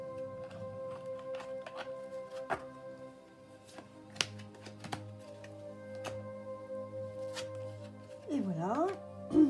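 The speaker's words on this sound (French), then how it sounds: "Alors, je vais ranger les cartes." Oracle cards are gathered up and put away, giving soft repeated taps and shuffling clicks against a steady quiet background hum, with a brief voice near the end.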